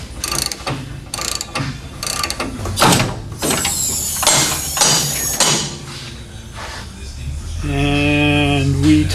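Hand ratchet tightening nylock nuts on a Nova drag car, with several bursts of rapid clicking in a busy garage and a louder, ringing mechanical rattle near the end.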